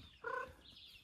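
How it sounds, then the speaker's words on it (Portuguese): A chicken eating feed in a rural backwoods yard gives one short, fairly faint cluck over a quiet outdoor background, with no talking. "Galinha pra comer, Nossa Senhora."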